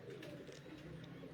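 Lal Pari pigeons coo softly in a loft, a faint low burbling call running through the whole short stretch, with no voices.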